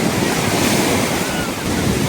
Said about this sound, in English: Oh, the water, the waves are just hitting the shore.